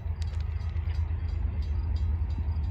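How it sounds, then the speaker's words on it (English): A CSX intermodal freight train rolls past at Lake Avenue in Blasdell, New York, as a steady low rumble that holds throughout without any horn. "we got a CSX intermodal heading down"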